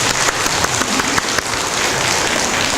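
Worshippers at a Korean Methodist church clap together in a loud, close round of applause, individual claps sharp at first and then blending into a steady, continuous wash, with no speech heard.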